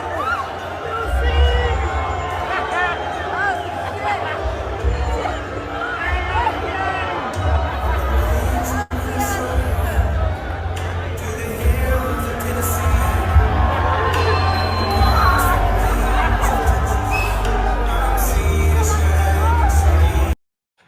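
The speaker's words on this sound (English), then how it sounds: "He starts to get booed, so they start turning up the music so you can't hear people booing." Crowd at SneakerCon reacting to Donald Trump with a mix of booing and cheering, loud and continuous over heavy bass-driven music played loudly throughout, dense babble filling the whole stretch.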